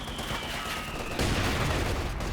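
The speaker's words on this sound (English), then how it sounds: "they're getting blasted by the mortar now" Mortar fire and explosions in a Company of Heroes 2 4v4 battle on a road map, a dense rumbling barrage that swells abruptly halfway through with a burst of louder blasts.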